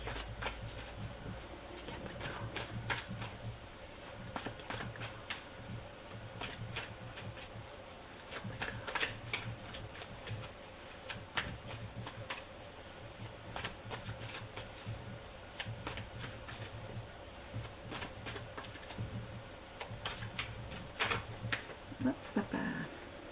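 Tarot cards being shuffled in hand, a steady run of soft riffling and flicking taps with sharper bursts throughout, close and clear over a low constant hum, with no talking.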